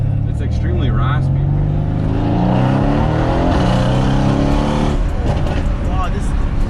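A Mercedes W205 C63S AMG with a turbocharged V8 roars loud and close, revving with raspy rising and falling engine tones, with people talking over it.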